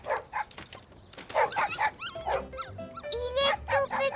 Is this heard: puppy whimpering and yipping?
yes